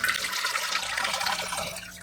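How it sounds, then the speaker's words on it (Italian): Water pouring into a large container, a continuous splashing gush that stays fairly loud and steady before tapering slightly at the end. "Prendiamo un contenitore bello grande, ci versiamo dentro l'acqua, ma non i peperoncini."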